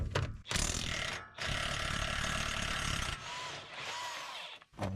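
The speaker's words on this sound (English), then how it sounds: "I'm gonna see if I can get it off with my impact wrench" An impact wrench works at a brake caliper bolt on a 2016 Land Rover LR4 front brake, giving loud continuous hammering rattles in long bursts with a brief pause between them.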